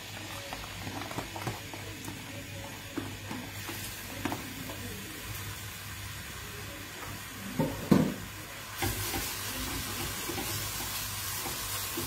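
Finely diced onions frying in hot oil in a pan for a Persian herb soup, a steady crackling sizzle with occasional stirring scrapes and a louder clatter midway.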